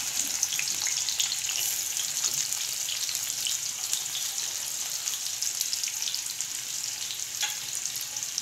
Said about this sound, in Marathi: आपलं तापलेलं आहे. आता आपण कांदा टाकून घेऊ.